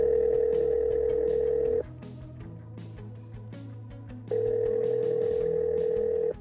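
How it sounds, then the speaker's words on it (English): A phone call ringing out through a car's hands-free system: two long, loud steady ring tones separated by a quieter pause, with no talking. "Calling Tom Smith, mobile."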